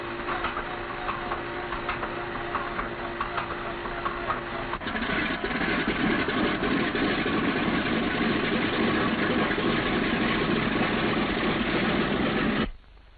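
A B-17 bomber's radial engine catches and settles into a steady, loud idle, its rumble growing fuller midway and running unbroken until it cuts off abruptly near the end, with no talk over it.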